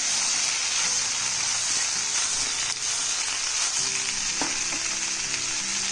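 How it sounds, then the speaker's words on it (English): Potato slices for a crispy masala potato fry hiss loudly in hot oil in a pan, a dense, even sizzle with a few soft stirring knocks, close and uninterrupted by talk. "Let's give this a quick mix."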